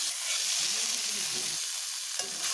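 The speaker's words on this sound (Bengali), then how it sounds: "জিরে গুঁড়ো দেওয়ার পরে আরও একটু ভালোভাবে কষিয়ে নিচ্ছি" Pumpkin sautéed with cumin powder in a pan gives a continuous, dense sizzle with soft stirring movement underneath, close and even throughout.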